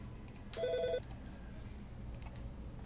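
A telephone rings once during a lecture, a short electronic trill standing out over quiet room noise.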